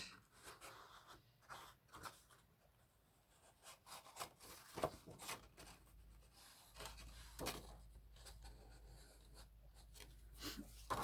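A small inking tool is rubbed along the edge of a paper craft piece, giving faint, scratchy dabs and strokes in short irregular bursts, close up in a quiet room with no talking.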